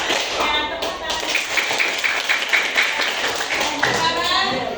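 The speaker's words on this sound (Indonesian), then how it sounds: "tepuk tangan" A class of students clapping their hands together in a classroom, giving dense, continuous applause for about five seconds, loud and close, with some voices mixed in.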